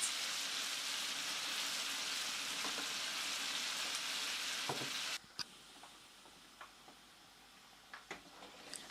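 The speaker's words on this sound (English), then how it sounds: "So here I'm just adding the first batch of gizzards to fry on medium to high heat." Gizzards fry on medium to high heat, giving a steady close sizzle that drops abruptly to a quieter crackle midway, with scattered pops and spits.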